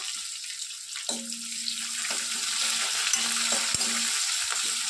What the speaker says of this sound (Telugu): బాగా గోల్డెన్ కలర్ వచ్చేంత వరకు వేయించుకోవాలండి